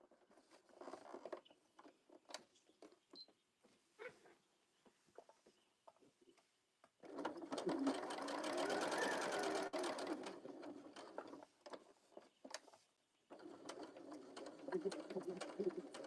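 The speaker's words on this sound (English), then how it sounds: "Okay, so we're just gonna sew this." A sewing machine stitches a fabric bee pouch, a close whirring run of about six seconds followed by a shorter burst, with soft cooing birds and scattered quiet sounds in the background.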